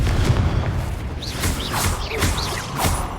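Confringo explosive spell blasts in a Hogwarts Legacy battle, several booming impacts and crackling bursts over a dense combat rumble, fairly loud and close with no talk.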